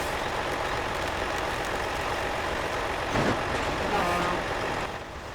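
A Volvo truck in the Spintires video game, its engine a steady loud drone throughout, with a brief whoosh and a low tonal hiss near the end before the noise eases off.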